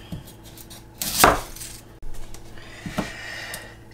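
A knife cuts through an onion on a board, giving one firm crunching chop followed by a softer knock and a lighter tap, close and with no talking.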